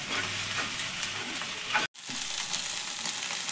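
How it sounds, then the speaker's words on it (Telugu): Chirraku greens tempered in hot oil, a steady close sizzle and crackle with stirring scrapes, cut by a brief moment of silence before the frying resumes. "చిర్రాకి తాలింపు అయిపోయింది"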